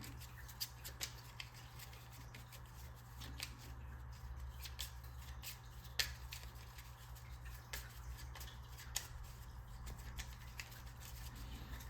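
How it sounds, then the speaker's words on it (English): Soft, rapid papery riffling and tapping as a deck of Marvel Champions game cards is shuffled, continuous and close over a low steady hum. "Give that a quick shuffle."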